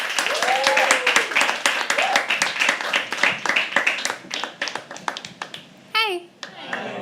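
An audience at a live poetry open mic at The Habitat claps steadily with quick, dense hand claps, mixed with cheering and a few voices, before tapering off near the end.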